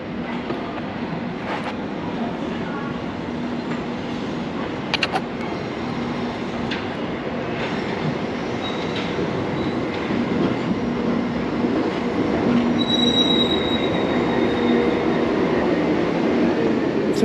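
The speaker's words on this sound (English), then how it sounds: "And this train will form a Morden via Bank service." A London Underground train at Edgware station rumbles steadily along the rails with a continuous roar, occasional clicks and a rising whine, growing slightly louder toward the end.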